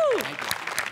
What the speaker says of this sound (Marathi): वने तुझ्या टायमिंगसाठी आणि गौऱ्या तुझ्या रिॲक्शनसाठी या विशेष टाळ्या.